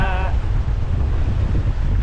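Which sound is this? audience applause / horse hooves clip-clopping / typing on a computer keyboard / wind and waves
wind and waves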